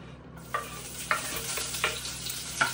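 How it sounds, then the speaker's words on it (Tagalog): Onion and garlic sauté in hot oil with a soft steady sizzle, broken by four sharp scraping strokes of a spatula stirring the pan at a slow, even pace. "Ginisa ko lang ang sibuyas at bawang."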